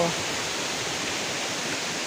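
Nang Khruan waterfall in Tak province, Thailand, pouring as a steady, broad rushing roar that fills the whole stretch without any break.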